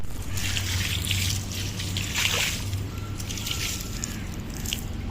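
Water trickles and sloshes steadily while carpets are washed, with a broad continuous wash of splashing and a low hum underneath, fairly close and even in level throughout.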